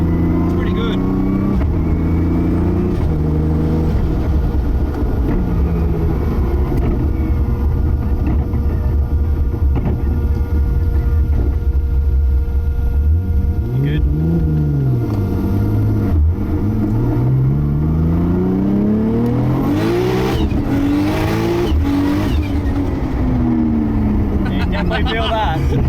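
A 1000hp widebody R33 Skyline GT-R with a sequential gearbox drives with a loud, deep engine drone inside the cabin, revving up and down through shifts, while people talk over it.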